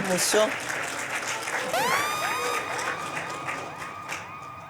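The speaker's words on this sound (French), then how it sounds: "On l'applaudit." Steady applause from a congregation for a pastor, with scattered cheers and bright whistling tones sweeping through, continuing throughout at a moderate, even level.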